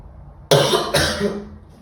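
Two harsh coughs in quick succession, close and loud, the second slightly weaker and trailing off.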